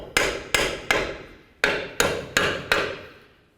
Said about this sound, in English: Give the control arm a couple loving bonks just to cause some vibration